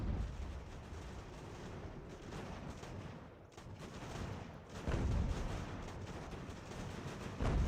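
Artillery guns firing at an enemy company in the video game Ultimate General: American Revolution, a dense rumbling barrage of booms over continuous battle noise, with heavier low thuds near the middle and at the end.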